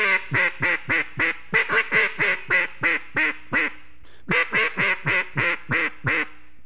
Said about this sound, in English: So you start out with some nice series of quacks.